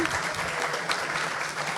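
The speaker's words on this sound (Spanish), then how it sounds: "un aplauso por favor" Audience applause greets a researcher introduced at a science talk event in Manta, a steady dense patter of clapping at moderate level with faint voices mixed in.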